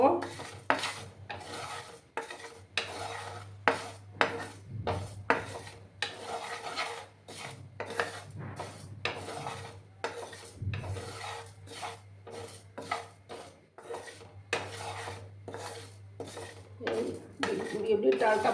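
Urad dal dry-roasting in a pan is stirred continuously, giving a long run of rhythmic, close scraping and rasping strokes of utensil against pan, with the grains rattling between strokes.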